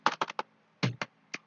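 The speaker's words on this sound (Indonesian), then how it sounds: "lalu kita ketikkan lagi interface serial" Seven quick clicks on a computer keyboard, sharp and close, in two short bursts separated by a brief pause.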